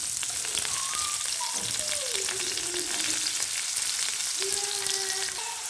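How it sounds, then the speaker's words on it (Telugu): Chopped onions, curry leaves and green chillies frying in oil in a pan, giving a dense, even sizzle throughout, close up and loud, with faint scraping and no speech. "కరివేపాకు, పచ్చిమిర్చి అయితే వేసుకున్నాము."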